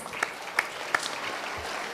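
Sparse applause at an interactive session in Chennai, a few distinct claps standing out over a soft, thin background patter from a small audience.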